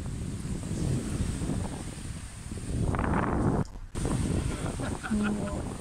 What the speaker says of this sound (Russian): Вот вы слушаете шум волн и ветер. Ветер очень солидный.